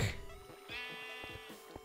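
A single sheep bleats in the video game Minecraft, a short wavering cry heard clearly at moderate volume.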